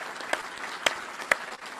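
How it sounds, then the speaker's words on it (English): A crowd at a military change of command ceremony gives a brief, thin round of applause. A few distinct claps stand out over a soft wash of clapping. "So big round of applause for all of them,"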